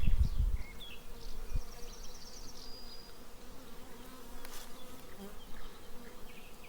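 Honey bees buzz steadily around the listener at an apiary, a dense droning hum with individual bees passing close by, and a brief thump near the start.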